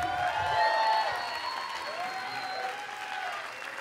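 Applause from a theater audience at Marque Teatro, a steady wash of clapping that holds at an even level throughout, with sustained tones ringing over it.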